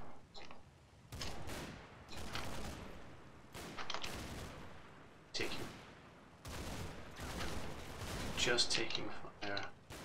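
Gunfire in the Combat Mission: Battle for Normandy video game, with rapid bursts and single shots erupting repeatedly at moderate loudness, some bursts sharp and close, others more distant, with gaps of quieter battlefield noise between them.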